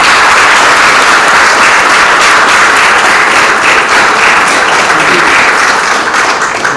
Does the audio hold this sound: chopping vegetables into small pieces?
no